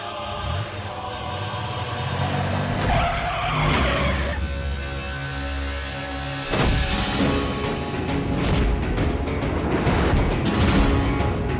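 A car revs and pulls away with squealing, skidding tires, loud and close, with engine roar and bursts of tire noise repeating across the scene.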